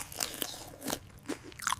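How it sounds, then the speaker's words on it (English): Crunchy bites into the crust of a homemade garden pizza, with four or five short crisp crunches spread over a couple of seconds, close up and fairly quiet, with no talking. "the crust is so crunchy"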